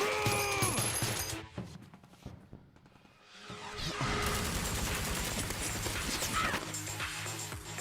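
Gunfire in a Ubisoft video game trailer, with bursts of rapid shots and crashing impacts over a dense, loud soundtrack, briefly dropping to a lull before the battle noise swells back up.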